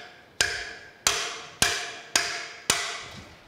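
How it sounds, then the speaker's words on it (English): Five sharp, evenly spaced metallic blows from a lead hammer striking tight 1¼-inch cylinder head nuts on a steam locomotive stoker engine under restoration, each hit ringing briefly before the next, close and alone. "I'm gonna use a lead hammer here."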